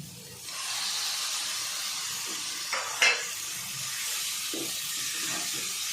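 Chicken keema dropped into a hot pan for chicken misal fries with a steady, close sizzle, briefly louder with a couple of stirring scrapes midway, and no talking.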